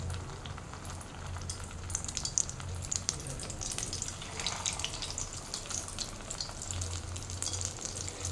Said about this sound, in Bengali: তেলটা আমার গরম হয়ে গেছে, আমি একে একে কোফতাগুলো ছেড়ে দিচ্ছি